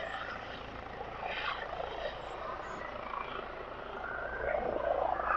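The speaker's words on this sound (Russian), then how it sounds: "Вот вертолет," A helicopter flies near a hospital, a steady whirring engine drone that grows slightly louder toward the end, heard from outdoors at moderate distance with no clear speech over it.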